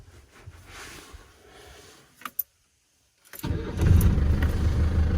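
After new batteries are fitted, a car engine in Slovakia cranks and catches following a couple of faint clicks and a brief silence, then settles into a steady, fairly loud running rumble.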